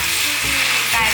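Star anise pods and small pieces of cinnamon bark sizzle in hot oil in a wok, with a steady close frying hiss and two soft scraping stirs of the spatula, no voices.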